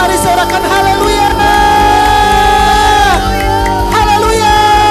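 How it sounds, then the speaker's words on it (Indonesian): A church congregation in Sunday worship shouts hallelujah together, a loud massed crowd roar with sustained voices and rising cheers over a held musical backing, filling the whole span. "Mari sorakan haleluya"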